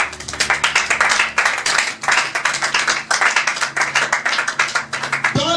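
Church congregation clapping in quick, steady rhythmic bursts to acclaim Jesus, loud and close, continuing throughout with brief dips before a final tonal swell.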